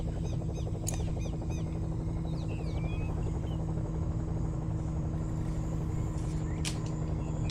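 A helicopter passes overhead in the Rung Sat, a steady loud rotor drone and hum filling the whole stretch, with faint chirps and clicks scattered above it.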